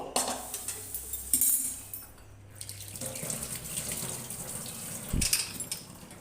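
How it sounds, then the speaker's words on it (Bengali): Water poured from a tap into a pressure cooker for boiling in a home kitchen, a soft running trickle broken by light clinks of utensils and cookware. "যেটুকু আমার সিদ্ধ করার জন্য দরকার আমি সেই পরিমাণ জলটা এখানে দিয়ে দিচ্ছি।"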